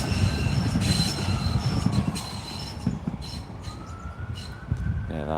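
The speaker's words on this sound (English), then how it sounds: "that train doesn't sound very well at all" Train passing near Newcastle Airport, a loud rumbling roll with high, drawn-out wheel squeals that rise and fall across the passage, close and continuous.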